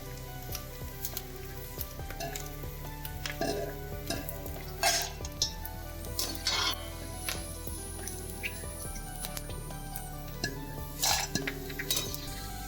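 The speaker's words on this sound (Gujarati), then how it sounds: "હવે એને એક વાસણમાં લઈ લઈએ" Fried gund (edible gum) puffed in ghee is moved into a metal vessel while making Gujarati adadiya pak, with scattered clinks and scrapes of a spoon against metal over a steady low sizzle, with no talking.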